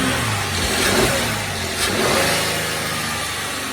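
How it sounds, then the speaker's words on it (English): A Mercedes E350 engine revs up from idle in a steady, loud roar, rising and falling briefly before settling back, with no voices. "Give it a rev."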